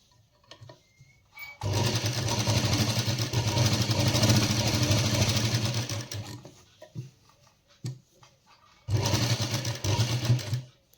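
A sewing machine stitches a kurti, running in two steady bursts, a long one and a shorter one later, with quiet pauses and faint handling sounds between them, and no voices.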